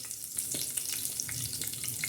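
Steady sizzling of black masala spices frying in hot oil for a chicken curry, a continuous crackle with small pops scattered throughout, close and fairly loud.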